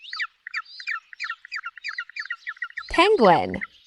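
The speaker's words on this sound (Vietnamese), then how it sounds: "Penguin." Rapid chirping calls of a penguin repeat in a quick series, clear and close, then a louder harsh squawk rises near the end.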